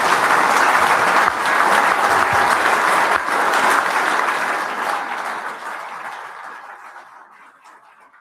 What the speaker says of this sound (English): Let's give a round of applause again to our panel.